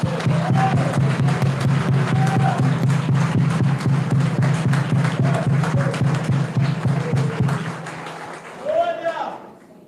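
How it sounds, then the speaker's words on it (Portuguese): A church congregation claps in a steady, dense rhythm, the applause fairly loud at first and then fading out toward the end. "Por favor, a ele uma salva de palmas, a ele."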